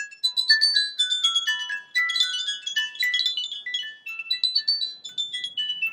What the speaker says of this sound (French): quand on tire, il y a de la musique